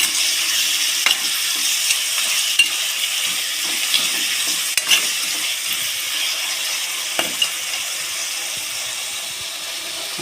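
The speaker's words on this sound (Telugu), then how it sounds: "ఒక నిమిషం పాటు ఈ మామిడికాయ తురుగుని మగ్గనిద్దాం" Grated raw mango frying in a pan, a continuous soft sizzle and stirring scrape with a few sharp clicks of a spatula against the pan, no talk.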